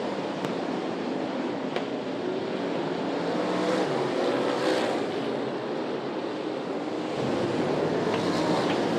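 Super sedan race cars at night at Archerfield Speedway, a loud, continuous roar of several engines passing on the track with steady crowd-like wash and no clear individual gear changes.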